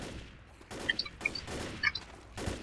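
Gatling gun fire in the zombie shooter Left 4 Dead comes in several short rattling bursts with brief gaps, fairly close and loud against a dull background din.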